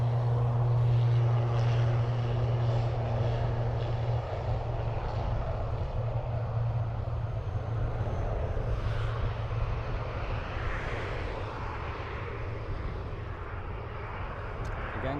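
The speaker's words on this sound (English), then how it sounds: "The Ryanair operated by Malta Air is off to Faraway land." A Ryanair jet operated by Malta Air departing Dublin Airport, heard as a loud, steady engine roar with a strong low hum that slowly eases across the whole stretch, with no voices.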